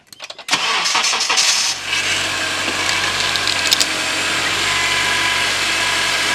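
A 2002–2011 Honda CR-V engine cranks briefly with a couple of clicks, catches and settles into a loud, steady idle nearby after a power steering pump replacement, with a faint clatter partway through.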